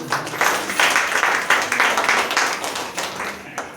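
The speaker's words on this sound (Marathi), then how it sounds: "आता यांच्यासाठी टाळ्या वाजवूया आपण." Audience at a church New Year gathering clapping together, a dense, steady burst of many hands close by that swells and fades over a few seconds, with faint voices underneath.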